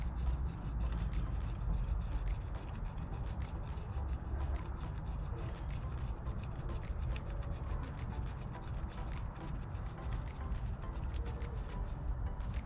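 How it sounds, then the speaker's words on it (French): Spark plugs are screwed back into a jet ski by hand during winter maintenance, giving a steady run of fine metallic clicking and ratcheting over low mechanical rumble. "on va remettre les bougies à la main"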